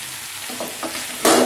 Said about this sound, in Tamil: நல்லா கிளறி விட்டுட்டே இருக்கணும்.